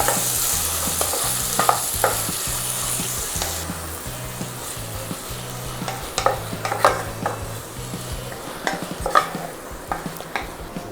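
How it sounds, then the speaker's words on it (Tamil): Mutton liver being stirred with onions in a sizzling pan, a loud steady fry hiss with repeated spatula scrapes and clanks against the metal, plus a low humming tone in the first few seconds, no voices. "நல்லா நம்ம அந்த வெங்காயத்தோட இந்த லிவரை வந்து மிக்ஸ் பண்ணி விட்ருவோம்"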